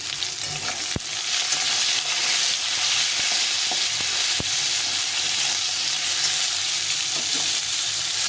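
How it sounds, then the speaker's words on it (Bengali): Potatoes and bitter gourd fry together in a pan, a steady close sizzle with a few sharp clicks of stirring against the pan. "করলাটাকেও ভালো করে লাল লাল করে ভেজে নেবো আলুর সঙ্গে"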